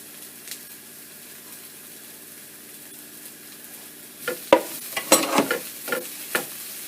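Three cloves of minced garlic hit a hot pan. After a quiet stretch, bursts of loud sizzling and stirring scrape through the last few seconds.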